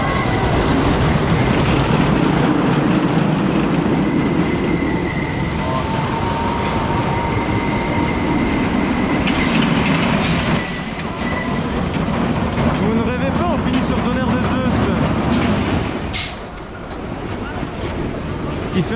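A roller coaster train at Parc Astérix rumbles loudly along its track, with a heavy continuous roar, rattling clatter and squealing wheels close by, easing briefly near the end.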